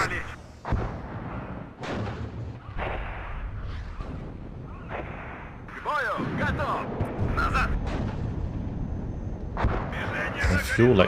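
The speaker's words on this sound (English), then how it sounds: "A fuel explosion." A fuel explosion in the WARNO war game erupts amid repeated booming artillery and gunfire blasts, with dense crackling battle noise building through the second half while a voice talks over parts of it.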